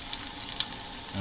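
Garlic sautéing in hot oil for kare-kare with beef oxtail, a soft steady sizzle with a couple of light ticks and pops, quiet and brief.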